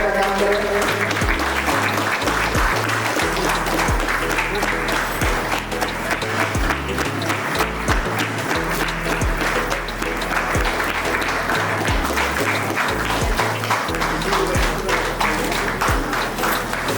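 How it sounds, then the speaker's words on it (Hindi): Audience clapping in welcome at a workers' honouring ceremony, steady dense applause filling the whole stretch at close range, with rhythmic low beats running underneath. "स्वागत के ताली बजाने का काम करेंगे।"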